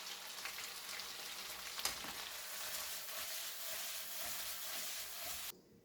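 Butter sizzling and frying in a pan for a sweetbread dish, a quiet, even crackle that holds steady before cutting off abruptly near the end.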